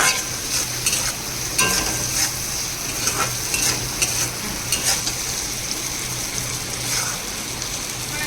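Pieces frying in oil with salt and turmeric are stirred, producing a loud, close sizzle with frequent scraping and clattering strokes of a spatula against the pan.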